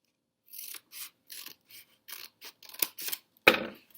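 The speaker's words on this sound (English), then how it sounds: "I'm going to cut it open with scissors on this folded middle" Scissors snip through folded paper along the crease in a series of short, crisp cuts, about nine in an uneven rhythm, close and clear with no talking.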